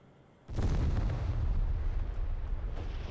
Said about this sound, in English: The cannon blasts through the goddess's shield as easily as iron through flesh